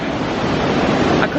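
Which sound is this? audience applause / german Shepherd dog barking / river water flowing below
river water flowing below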